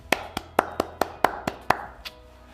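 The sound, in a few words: audience applause at faculty and staff meeting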